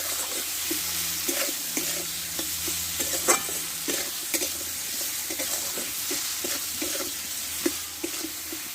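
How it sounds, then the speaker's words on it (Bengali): Spices, a large tomato and salt are stir-fried in a pan, with a bright continuous sizzle and a rhythmic series of spatula scrapes and knocks, close-up and with no talking. "দিয়ে মশলাগুলো একসঙ্গে ভালোভাবে কষে নেব।"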